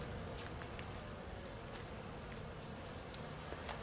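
Honeybees, black bees and Buckfast, buzz at a hive in a soft continuous hum, with a few individual bees passing close.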